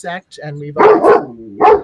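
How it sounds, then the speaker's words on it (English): A dog barks in short loud bursts, two close together then another, as a person speaks over it indoors. "that's my dog"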